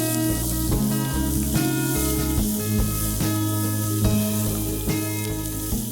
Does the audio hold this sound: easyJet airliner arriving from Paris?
no